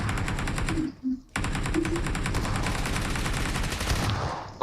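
Rapid automatic gunfire in PUBG Mobile, sustained rattling bursts close by that break off briefly near the first second, then resume and run almost continuously to the end.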